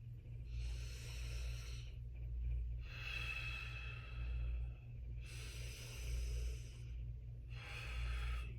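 Slow, deep breathing while gently swaying, with long airy inhales and exhales alternating in a steady rhythm, close and soft, with no talking.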